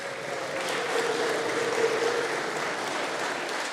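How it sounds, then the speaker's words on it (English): An audience at an award ceremony claps for a winner, sustained, even applause that stays fairly loud throughout. "A round of applause."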